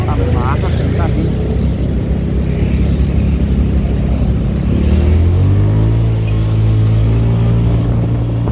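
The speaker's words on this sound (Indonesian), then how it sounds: "gua suka mengetes kecepatan motor" A Honda Spacy scooter accelerates during a speed test, its engine note rising and then holding higher over heavy wind rush and road noise, with the motor clearer in the second half.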